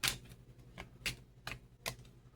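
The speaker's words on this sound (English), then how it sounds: "Let's actually let's shuffle it up a little bit more." A deck of playing cards being shuffled by hand, heard as four or five short, crisp riffling bursts spaced about half a second apart, close and fairly quiet with no talking.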